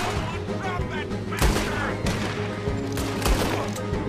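Revolver shots crack out in Red Dead Redemption 2, a string of loud gunfire bursts at uneven intervals over a dense layer of game noise, with fainter background talk.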